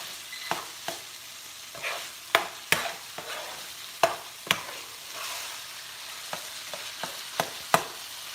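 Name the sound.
jalapenos and tomatoes frying in a pan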